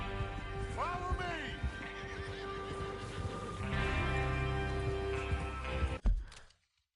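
Horses in Red Dead Redemption II neigh and whinny several times over clopping hooves and game ambience, with voices talking underneath, before a sharp thump and a sudden cutoff to silence.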